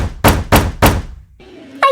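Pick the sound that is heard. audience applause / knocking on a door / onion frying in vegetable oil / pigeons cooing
knocking on a door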